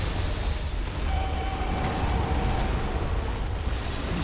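Bloodborne chalice dungeon lava spewing amid explosions: a continuous loud rumble with a few sharper booming bursts, constant throughout the short stretch.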